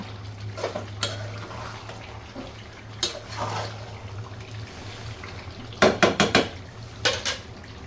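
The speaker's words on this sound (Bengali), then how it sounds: "এখন আমি এটা খুব ভালো করে একটু নাড়াচাড়া করে দিয়ে তারপরে গুঁড়া মশলা অ্যাড করব" Beef kala bhuna being stirred in a cooking pot once the meat has released its oil, with scattered metallic scrapes and clinks, a quick burst of spoon knocks near the end, over a steady low hum.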